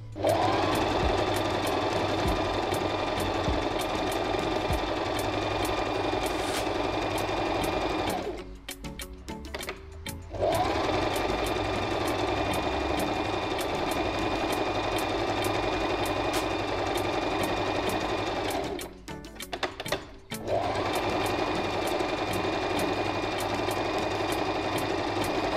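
A Singer M3205 sewing machine stitching a decorative zigzag pattern, a close, steady mechanical whirr with rapid needle clatter, broken by two short pauses before stitching resumes.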